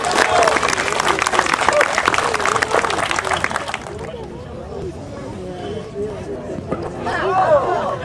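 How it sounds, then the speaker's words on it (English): Crowd applause at a Native village alligator show in Okeechobee, Florida, loud clapping for about four seconds that fades into crowd chatter and someone talking, with a brief swell of voices near the end. "Let's give a big round of applause for Stone working with this alligator."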